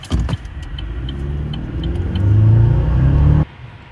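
A Chevy Silverado pickup, either the 2.7-liter TurboMax four-cylinder or the 5.3-liter V8, drives with a steady close engine rumble that swells in a brief acceleration before cutting off abruptly near the end.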